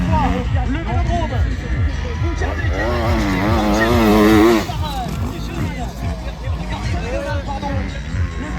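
A Kawasaki KX motocross motorcycle revs loudly and climbs in pitch as it goes over a jump at a classic race, and an excited commentator talks over the engine throughout.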